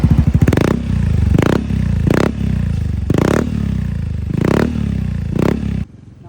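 A motorcycle with a modified exhaust at a parts shop revs hard in about five sharp bursts, each throttle blip rising loud and crackly over a rough idle before the engine cuts off.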